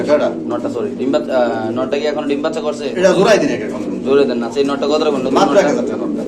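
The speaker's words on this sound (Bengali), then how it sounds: "এখানে আছে একটা দামাসিন কবুতর" A Damascene pigeon at a pigeon market coos in soft, repeated throaty bursts, mixed in with close-up human voices talking over it.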